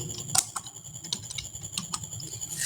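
Typing on a computer keyboard while entering data into an Excel sheet makes quick, close clicking keystrokes in an uneven rhythm, with a few louder key hits.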